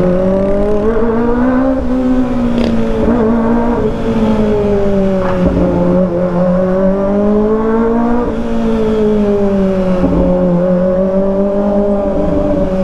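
A 2023 Kawasaki ZX25R SE with a new long canister exhaust revs loud and close, its high-pitched engine note rising and falling in smooth repeated sweeps with no crackle.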